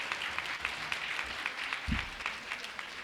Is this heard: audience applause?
yes